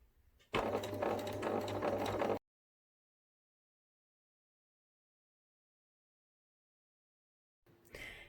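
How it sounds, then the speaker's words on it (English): Up close, a sewing machine runs steadily for about two seconds, stitching slowly around fabric pieces for a memory bear, then stops abruptly into silence before a brief faint resumption at the end. "put my presser foot onto my fabric, and I'm just going to sew around slowly and carefully"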